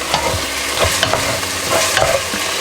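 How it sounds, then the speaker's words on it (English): Close-up stirring and scraping of caramel in a pan, with irregular scratchy strokes over a soft sizzle, steady and fairly loud. "as you cook, you scrape that stuff up. That's loud."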